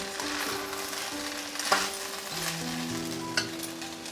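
Ginger juice hits fried rice in a hot pan and gets stirred in, producing a steady sizzle with a few brief scraping knocks from the stirring and a faint tonal hum beneath, with no talking.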